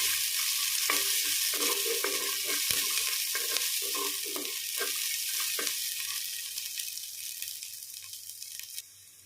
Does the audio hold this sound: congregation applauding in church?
no